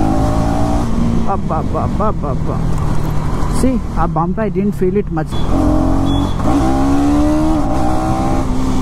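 A 2025 KTM Duke 250 motorcycle runs with a steady engine drone and rising and falling revs on the move, under continuous wind noise as someone talks over it.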